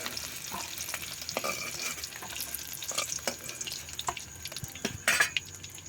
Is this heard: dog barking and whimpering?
no